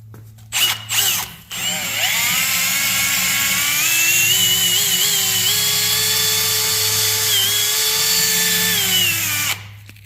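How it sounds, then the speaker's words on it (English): A power drill with a wire wheel scrubs rust off the turntable of an old rim-clamp tire changer, a loud sustained whine whose pitch wavers as it bears down, preceded by a few short bursts and clunks. "I'm going to go ahead and wire wheel it"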